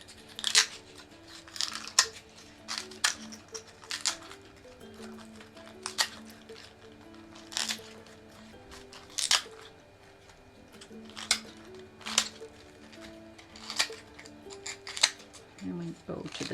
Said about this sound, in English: Keep trimming as I go here.